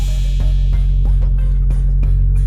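Car engine running after being started with a jump-starter power bank and no battery connected, a loud, steady low hum with faint clicks and ticks over it, heard up close.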